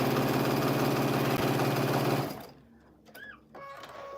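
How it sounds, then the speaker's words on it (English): A sewing machine runs loudly with a steady mechanical whir for about two seconds, then stops, leaving quiet room noise with a few faint tones. "I'm sewing."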